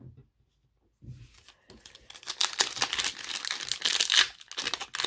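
A trading card booster pack's foil wrapper torn open up close, a brief quiet rustle followed by a long run of loud crinkling and ripping plastic, no voices.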